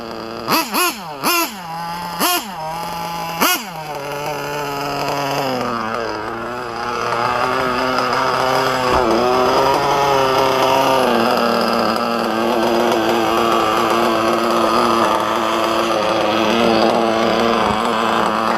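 A freshly rebuilt engine revs a few times in sharp bursts, then settles into a steady, slightly uneven idle during break-in, loud and close, with no talking.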